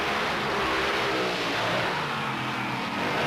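A monster truck engine roars at full throttle during a stunt jump contest, a loud, dense and steady blast of engine noise that fills the whole moment with no break.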